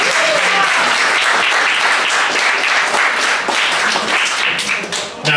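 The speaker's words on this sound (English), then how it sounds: "I think that deserves a round of applause." Comedy club audience at Jimmy's in Liverpool breaking into loud, dense applause with some cheering, close and sustained, fading slightly near the end.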